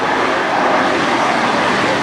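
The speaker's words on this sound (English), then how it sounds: "that's reverse thrust coming on the T-23" A C-23 Sherpa twin-turboprop landing at an air show kicks in reverse thrust, giving a loud, steady broadband engine roar that fills the whole moment without a break.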